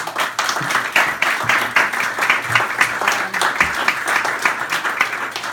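An audience at a political campaign event breaks into applause, a loud, fairly close wash of many hands with an uneven, pulsing rhythm that carries on for about five seconds without speech.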